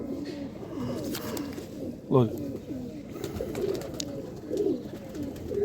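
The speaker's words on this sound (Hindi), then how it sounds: "बड़ा ही जिसे कहते हैं नायाब कबूतर है ये" Pigeons cooing in a loft with their repeated soft throaty coos close by, a brief louder call near the middle, while someone speaks briefly.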